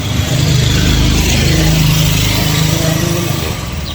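Motorized tricycles rumble past on a street, a loud continuous mid-pitched engine drone that swells and fades slightly without pause.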